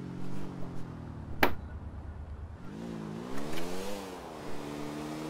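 A motorcycle engine in GTA IV revs and whines, its pitch rising and falling as the bike climbs a ramp, with a sharp impact cracking out midway and the rider's engine droning on afterward.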